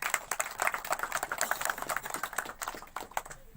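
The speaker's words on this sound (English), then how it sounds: "Can we have a big clap for her, please?" Audience in a cinema lobby gathered for an early-morning Avengers: Endgame show clapping, a dense, steady burst of many hands applauding close by for several seconds before thinning out.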